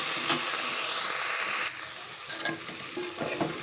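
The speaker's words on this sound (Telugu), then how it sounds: "చూడండి ఎలా ఫ్రై అవుతున్నాయో." Broad beans fry in hot oil for a curry, giving a steady loud sizzle with stirring, then a softer crackle broken by a few scraping clinks.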